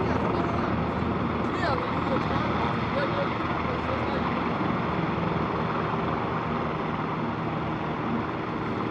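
Helicopter taking off in Manhattan, a steady broadband rotor and engine roar holding loud and close throughout with continuous city noise beneath.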